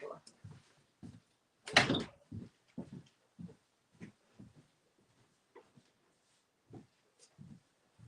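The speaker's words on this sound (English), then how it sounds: "I'm going to shut the door." A room door swung shut partway through, one sharp broadband thud standing out clearly, while someone speaks on and off before and after it.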